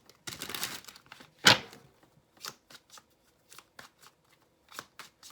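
Tarot cards are shuffled by hand, a riffling burst followed by a sharp snap and scattered light taps and slides of cards, close up with no talking.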